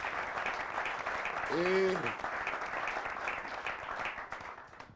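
Congregation applauding and cheering a preacher at a church teaching: steady crowd clapping throughout with a swell near the middle, while a voice speaks briefly over it.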